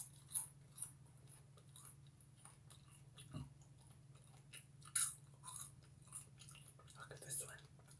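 Snickers candy-coated popcorn being eaten up close, soft scattered crunches and chewing bites at irregular intervals over a quiet background with faint hum.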